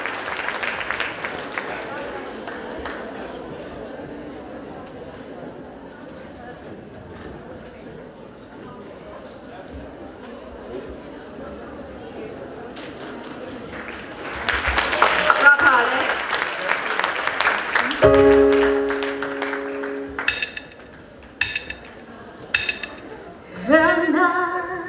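An audience applauds to welcome a singer at a Radio Fama launch event, with thick clapping that swells loudly and then gives way to music, after an announcer's voice speaks over a quiet room.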